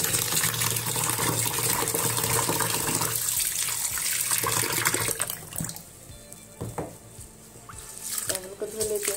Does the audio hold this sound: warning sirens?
no